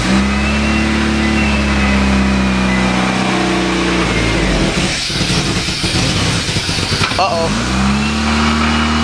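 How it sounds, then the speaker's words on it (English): An Eagle Summit car engine, freshly repaired after a head gasket and compression fix, idles loudly up close with a low steady drone, dipping and roughening midway before settling again, while a person speaks briefly. "it is running on all cylinders"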